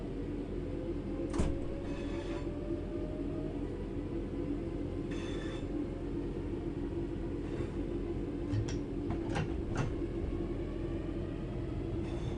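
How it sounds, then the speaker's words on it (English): Steady low rumble of a train running in Train Sim World 4, with a continuous engine drone and occasional brief clanks and rail squeals over the top, no voices. "Let's get the train moving and see it all working."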